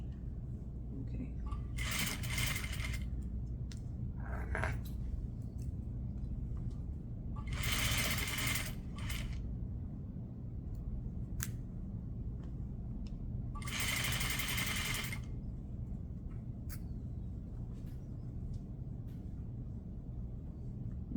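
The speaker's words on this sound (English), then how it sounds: "I can stitch to the inside of the gathering stitch" A sewing machine stitches a jacket sleeve in short bursts of rapid whirring, three main runs separated by quiet pauses with soft clicks, close and moderately loud.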